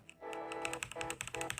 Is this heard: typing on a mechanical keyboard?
yes